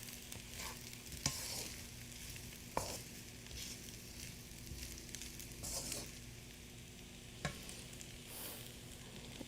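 Chili beef fried rice frying and being stirred in a home Bangladeshi kitchen, a steady quiet sizzle with a few sharp scrapes of the utensil against the pan, no talking.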